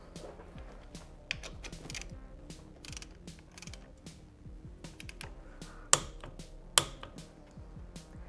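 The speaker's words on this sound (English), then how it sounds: "I'm going to torque it to about 30 foot-pounds" A ratcheting torque wrench clicks rapidly in repeated bursts while tightening a bolt on Honda Grom crash bars, quiet and close, with two sharper snaps near the end.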